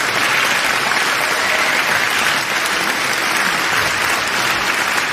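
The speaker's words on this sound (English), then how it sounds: "I applaud both of you, and I ask that we all do." Loud, sustained applause from the audience for the two finalists of a debate competition final, a dense continuous roar of many hands clapping with no voices over it.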